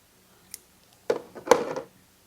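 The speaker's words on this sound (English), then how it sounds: "Now let's just cut this gasket out." Scissors cutting through gasket sheet material during a Honda EU2000i generator carburetor repair, a faint tick followed by two short, close crunching snips.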